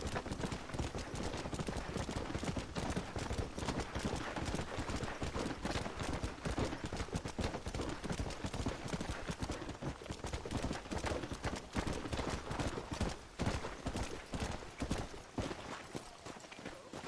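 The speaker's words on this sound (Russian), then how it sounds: "Почему я опять на черной коняке скачу?" Rapid, steady clip-clop of a horse galloping in the Western video game Red Dead Redemption, the dense hoofbeats running continuously and fairly loud throughout, with no talk over them.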